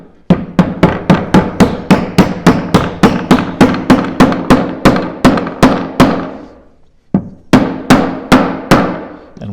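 A hammer drives a glued wooden piece into a chessboard, sounding as a fast run of loud, sharp, even knocks. After a short pause, a second burst of the same blows follows.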